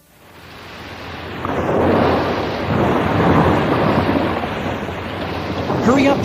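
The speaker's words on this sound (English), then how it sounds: "It's really raining hard." Heavy rain pours down in a thunderstorm, a dense continuous roar that swells after a quiet start and stays loud, with low rumbling thunder underneath and no clear voices.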